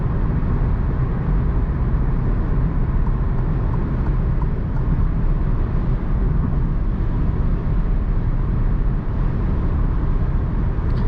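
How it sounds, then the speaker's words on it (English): Inside an Alfa Romeo Giulia on the move, a steady broadband rush of wind and road noise fills the cabin continuously at an even level. "Definitely some wind noise."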